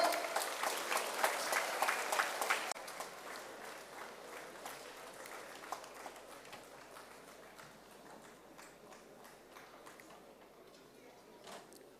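Audience applause at an award ceremony, loudest in the first seconds, then settling into a steady, thinner patter of clapping that carries on to the end, with no voices over it.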